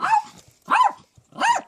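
A dog barks three times in evenly spaced bursts, close and fairly loud, with a growly edge, reacting to a smoke detector indoors.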